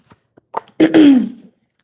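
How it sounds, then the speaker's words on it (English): A single short throat clearing, a few soft breathy catches followed by one gruff, voiced rasp, close and otherwise quiet. "Excuse me if I keep clearing my throat."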